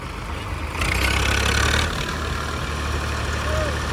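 Tractor engine running beside a canal in a maize field area, a steady low idling rumble with a brief louder surge in the middle, fairly close.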